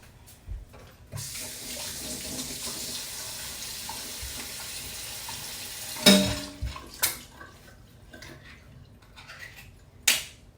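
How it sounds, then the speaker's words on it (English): Tap water runs steadily over canned black beans in a kitchen sink for several seconds, then stops, followed by a few sharp clanks of the can and utensils. "I'm going to open up my can of black beans, rinse them, and put them in the bowl"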